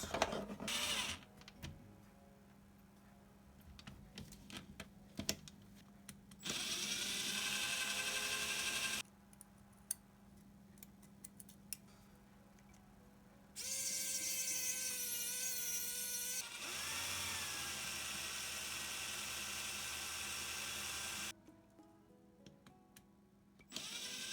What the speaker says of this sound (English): This one we're gonna have to drill it out a little bit.